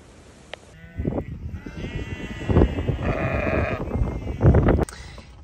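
Sheep on a farm bleat repeatedly, several overlapping calls rising and falling over about five seconds, fairly close and loud, with faint background noise between cries.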